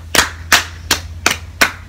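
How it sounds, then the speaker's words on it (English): Five separate sharp claps at a slow, even pace, close by, each a loud broadband burst over a steady low hum, with no talk. "a round of applause"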